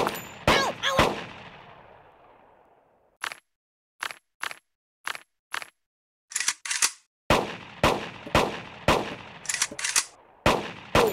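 Beretta pistol fire at a shooting range in the video game Kick the Buddy: sharp, close single gunshots, first a quick pair with a ringing tail, then a series of crisp shots spaced irregularly with metallic clicks between.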